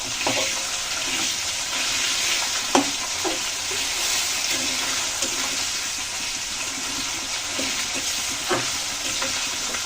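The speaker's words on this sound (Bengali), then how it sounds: "এখানে মাথা দিয়ে দিচ্ছি। ভেজে দিলাম মাথাটা।" A fish head fries in hot oil alongside already-fried potatoes in a pan for a cabbage dish, producing a steady close sizzle with occasional louder spits, knocks and stirring clatters.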